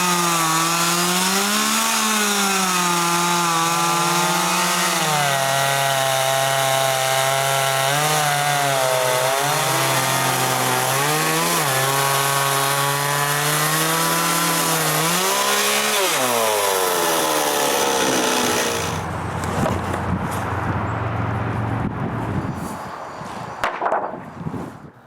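Chainsaw ripping apple wood logs into planks, a loud, close, continuous engine whine with shifting pitch as the bar bogs and revs through the cut, easing off near the end.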